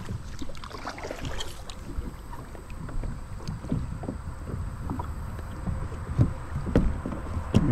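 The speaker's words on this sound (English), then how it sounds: "See what it's like paddling it around." Someone stands on an Old Town Sportsman 106 kayak and paddles, with repeated soft splashes and dips of the paddle, light knocks against the hull and faint wind noise, close and irregular.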